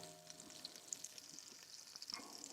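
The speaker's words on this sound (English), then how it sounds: "Get that bacon grease going." Bacon grease saved from breakfast sizzles in a hot pan, a quiet, steady crackling hiss with small pops scattered throughout and no voices.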